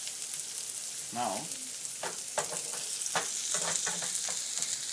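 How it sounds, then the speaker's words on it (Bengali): Onion and garlic fry in a pan with a constant close sizzle, broken by several sharp scrapes of stirring and a short vocal sound, while black seed bhorta is being cooked. "পেঁয়াজ রসুন একটু ভাজা হতে হতে আমরা"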